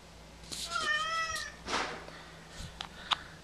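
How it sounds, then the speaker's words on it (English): A house cat meows indoors, a few close, drawn-out cries with clear rising and falling pitch, followed by a softer short call and a small tap against a steady low hum. "Dang cats."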